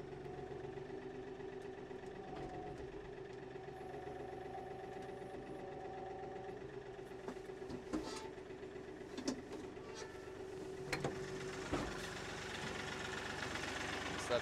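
A tractor engine idles steadily and fairly faint in a muddy field while collecting maple sap, with a low continuous chug and occasional clanks, and some quiet talking.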